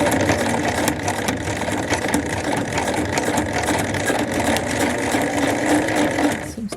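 A sewing machine stitching through heavy interfacing while altering a pair of pants, a steady close mechanical whir with fast regular needle clatter that runs continuously before stopping at the very end.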